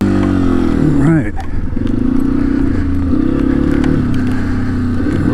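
A Yamaha XT250 motorcycle revs up and pulls away in the rain, its engine loud and close with a quick pitch rise, then a steady drone with rain noise and some talk over it.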